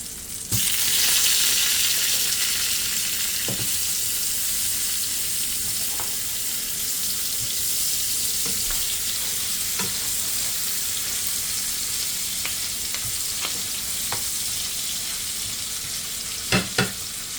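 Butter and onions frying in a pan for a green bean, sausage and potato casserole, giving a steady, loud sizzle throughout with occasional light stirring clicks and a couple of sharper knocks near the end.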